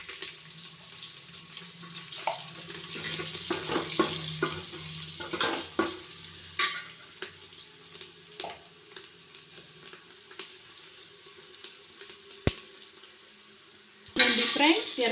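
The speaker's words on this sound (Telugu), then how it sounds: "తర్వాత ఎర్రగడ్డ, కరివేపాకు ఫ్రై చేసుకోండి." Onions and curry leaves fry in a pan while being stirred, a quiet steady sizzle punctuated by spatula scrapes and taps, ending in a brief burst of louder noise.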